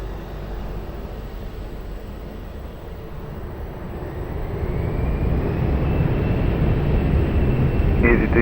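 At Lisbon Airport, an airplane takes off from runway 20 as a broad, steady engine roar swells and grows louder partway through, with a faint radio-like voice in the background.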